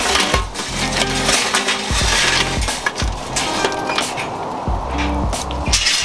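Charcoal pours and clatters into a Weber kettle grill set up for slow-and-sear cooking, a loud, close run of crunching, clinking lumps in repeated bursts with no talk.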